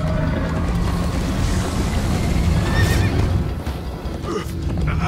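A Minecraft horse neighs and whinnies while its hooves clip-clop steadily, loud and close, with no talking over it.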